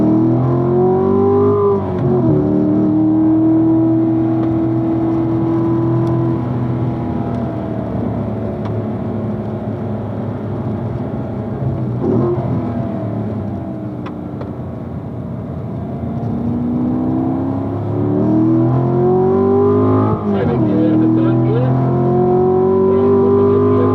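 A car laps a race circuit with its engine droning loud and close throughout, its pitch rising sharply as it accelerates out of a curve, dipping and easing through the middle, then climbing again through gear changes near the end.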